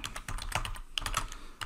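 Someone types on a computer keyboard in a rapid run of crisp, close keystrokes with uneven rhythm and short pauses between bursts.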